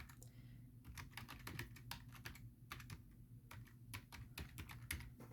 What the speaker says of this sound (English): just type in www.backtonatureapparel.com